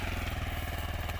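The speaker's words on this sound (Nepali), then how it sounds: "बाइकलाई चाहिँ स्टार्ट गर्यो" A motorcycle engine running at a steady idle in a beginner riding lesson, close and rhythmic with a regular low thumping pulse and no voices.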